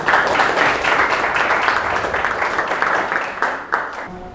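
Classroom of students applauding a top-ranked pupil named Nurul in a lesson on human needs and resource scarcity; dense, steady clapping for about four seconds that thins and fades out at the end.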